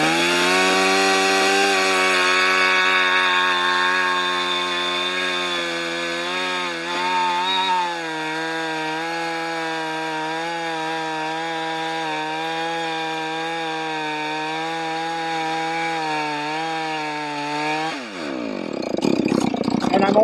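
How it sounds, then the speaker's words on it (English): A chainsaw bites steadily into a log being squared, cutting about halfway through, its loud, sustained engine whine wavering slightly in pitch for roughly eighteen seconds before the saw backs off and the sound drops away. "Now that I'm down to halfway, I can engage the dog part of the chainsaw"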